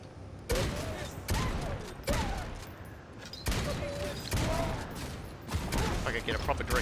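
Repeated bursts of gunfire in the video game Necromunda: Hired Gun, several sharp, loud volleys arriving at roughly regular intervals, with someone talking faintly underneath.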